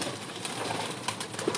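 A female breeder pigeon coos softly in a loft, a few faint low calls over steady background hiss with no talking.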